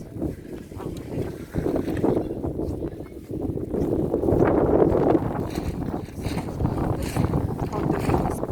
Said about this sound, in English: How the wind is pushing me.